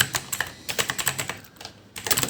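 Fingers type on a computer keyboard in quick bursts of close, crisp key clicks, with one brief pause before the tapping resumes.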